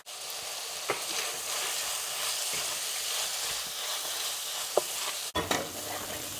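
Tomatoes soften in hot oil for a fish curry, giving a constant, fairly loud sizzle with gentle stirring strokes, a couple of spoon taps and a sharp knock near the end.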